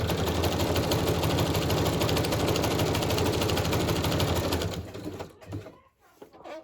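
A sewing machine runs a zigzag stitch through paper journal cards, a steady rapid mechanical chatter that continues for about five seconds and then stops, leaving a few quiet handling noises.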